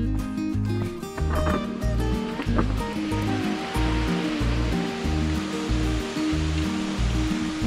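Water in a mountain valley stream rushes continuously and loudly, a dense steady flow heard up close during a hike.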